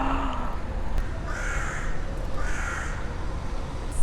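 A crow caws twice in a city street in Berlin, each call a harsh, nasal burst, loud and fairly close, over steady background traffic and street noise.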